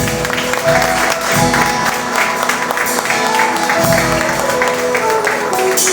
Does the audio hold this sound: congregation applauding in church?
yes